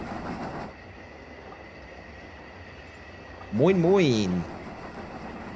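Brockenbahn steam train on the Harz narrow-gauge line in Train Simulator Classic, heard as a steady low rumbling run with a loud rising-falling whistle blast near the end; a brief greeting is spoken at the start.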